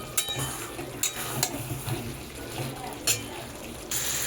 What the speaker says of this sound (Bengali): দেখুন মাংসটা থেকে কি সুন্দর তেল বেরিয়ে এসেছে আর বেশ ভালোভাবে কষছে